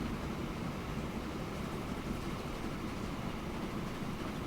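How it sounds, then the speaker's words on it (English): A train reversing on a single-track railway in Northumbria gives a steady, broad rumble of wheels and running gear at moderate level, constant throughout with no talking. "Now, this train is reversing."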